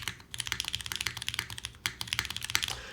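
Rapid, steady typing on a Mode Loop TKL mechanical keyboard without foam: crisp, clacky keystrokes in a fast continuous run with one brief pause, close and fairly loud, no voices.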